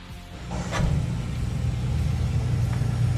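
A car engine catches and settles into a steady low rumble right after ignition, rising in level within the first second and then idling evenly and close by.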